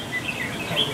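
A red-whiskered bulbul sings at an outdoor songbird competition, short bright whistled chirps repeating over a dense, noisy crowd background, moderately loud and continuous.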